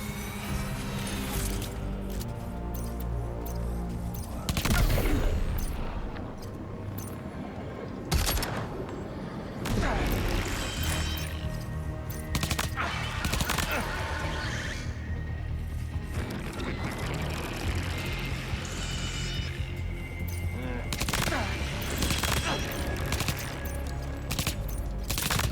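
Glock pistol fire in Death Stranding 2 cracks out repeatedly in close, punchy shots and quick bursts over a layered game soundtrack, with occasional heavier thumps between them.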